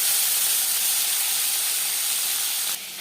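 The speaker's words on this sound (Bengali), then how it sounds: "4 চামচ রিফাইন্ড অয়েল গরম করে নেওয়ার পর দিয়ে দেবো মাছ" Fish pieces and a fish head drop into hot refined oil in a pan and fry with a loud, steady sizzling hiss that runs unbroken close up, then suddenly drops in level near the end.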